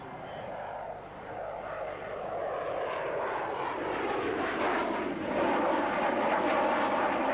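A Dassault Mirage 2000-5 fighter jet at the Le Bourget airshow roars past with a rising, sustained engine rush that grows louder toward the end, heard from a distance.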